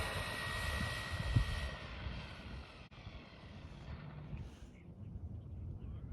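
A DeeRC 1217 RC truck on its stock 3S battery runs at full throttle, giving a thin, steady high motor whine with a low rumble underneath, moderately faint, that tapers off and fades partway through.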